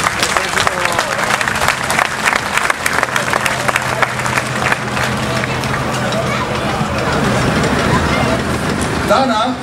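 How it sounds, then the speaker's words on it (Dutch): Outdoor crowd at a Liberation Day (5 May) commemoration in Katwijk aan Zee gives a veteran warm, sustained applause, dense clapping mixed with crowd murmur and some low rumble throughout. "We mogen hem een warm applaus geven."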